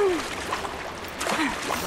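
A splash in Horizon Zero Dawn as the character jumps down a waterfall, a broad watery wash under a steady rushing background, with someone speaking over it.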